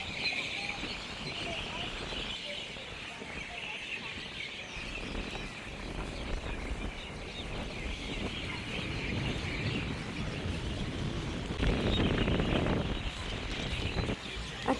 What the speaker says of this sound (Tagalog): napakasarap sa pandinig yung mga huni ng ibon